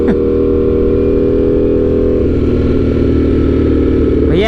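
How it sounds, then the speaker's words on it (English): A loud motorcycle engine holds a steady, rumbling idle, then revs sharply up at the start and again at the end. "Y'all tune in for the juicy, loud exhaust sounds."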